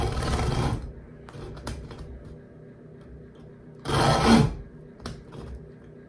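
A hand bone saw rasps through lamb ribs, a long pulling stroke at the start and another a few seconds later, with quieter scraping and handling noises in between, close up.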